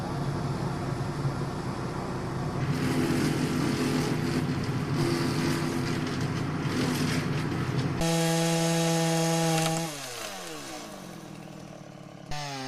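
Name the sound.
chainsaw trimming tree branches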